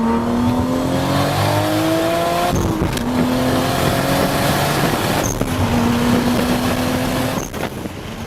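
A Toyota Supra MKIV engine drones steadily from onboard while driving, pitch climbing through gears with two brief shift breaks, loud and continuous with no talk.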